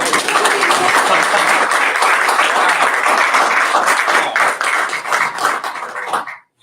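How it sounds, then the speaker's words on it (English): An audience at a Vestavia Hills Board of Education meeting applauds loudly, with dense, steady clapping filling the room for about six seconds before it stops abruptly. "So let's give him a round of applause."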